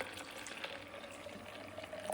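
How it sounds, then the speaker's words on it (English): Water pours into a pot of cashew ginger red lentil soup with coriander, salt and pepper, a quiet steady trickling splash heard close up with no talking. "Add your water."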